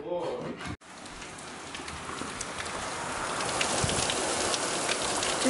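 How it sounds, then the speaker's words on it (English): Steady rain patters on a surface close by, faint at first and growing slowly denser and louder, with no talking over it. "Just a bit of rain."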